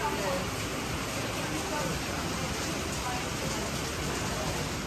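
Steady rain falls outdoors in Vila Franca do Campo on São Miguel in the Azores, a dense, continuous hiss of drops that stays even and unbroken throughout.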